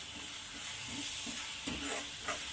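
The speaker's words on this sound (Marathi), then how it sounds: "माझी पद्धत अशी आहे छान असं हलवत राहायचं आहे" Wet red chilli and garlic chutney being stirred in a hot pan, with a steady sizzling hiss and soft repeated scrapes of the spoon, close and continuous with no talk.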